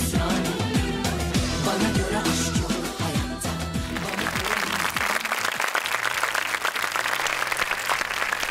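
A game show studio audience applauds loudly and steadily, the clapping continuing after music fades out partway through.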